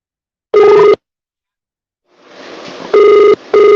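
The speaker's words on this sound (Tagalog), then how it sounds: "nagapalulong-lulong na ini, kasurog to na cellphone ko" A cellphone rings in loud electronic tone bursts, one short ring, then a pause filled with a rising hiss of background noise before two more rings follow close together.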